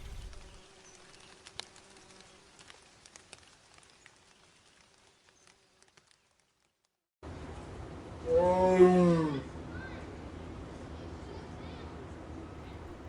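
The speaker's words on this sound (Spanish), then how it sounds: "tigre," A tiger lets out one loud, deep roar after a quiet start of faint ticking and rustling, with a steady ambient rumble behind it.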